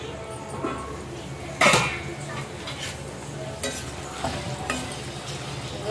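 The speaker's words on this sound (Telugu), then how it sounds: "ముందు ఉల్లిపాయలు వేసేసుకుందాం ఇందులో ఉల్లిపాయలు అయితే ఇలా వేగాలి" Onions fry in a pan for a yam and cumin curry, giving a steady low sizzle with one sharp stirring scrape partway through and faint clinks later.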